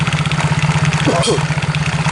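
A Yamaha X-Ride scooter idles with a steady, pulsing low engine throb and an even putter, and the rear wheel spins even though the throttle is not applied. A brief higher sound passes midway through.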